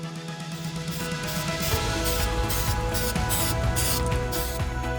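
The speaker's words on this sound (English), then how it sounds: "When you use a spray paint, don't try to finish it in one time." A steady hiss of heat-resistant spray paint on a PASECO kerosene stove runs almost continuously, with a faint rattle and clatter underneath.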